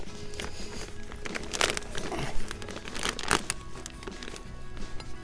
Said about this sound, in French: je vais juste pailler au-dessus